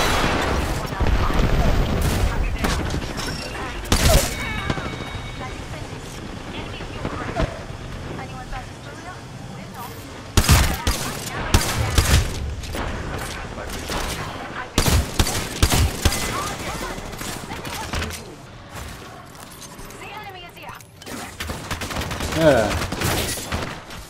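Bursts of automatic gunfire and booming blasts from an Apex Legends firefight, loud and close, come in repeated volleys separated by short lulls of rumbling game noise.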